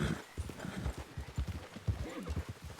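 Agitated horses stamp and clop their hooves in a rapid uneven rhythm while one lets out a short whinny, fairly quiet, with faint voices in the background.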